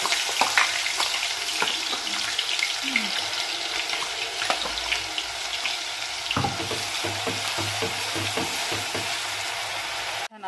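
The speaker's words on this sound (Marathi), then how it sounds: "तेल तापले ते तेलामध्ये आपल्याला वाट तयार केलेला मसाला सर्व टाकून घ्यायचा आहे" Ground masala paste fries in hot oil, crackling and hissing continuously, with sharp pops and occasional scraping as it is stirred.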